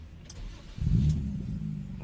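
A Nissan car engine cranks briefly and catches, then settles into a steady low idle rumble, heard close and moderately loud with no talk during it.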